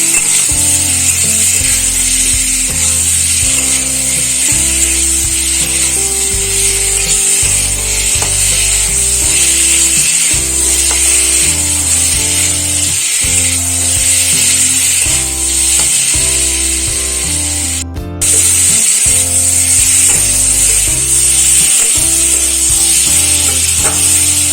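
Potato and pointed gourd bora curry with turmeric, salt and sugar sizzles loudly as it is stir-fried in a pan, with a steady hiss and repeated scraping strokes of the spatula and no talk.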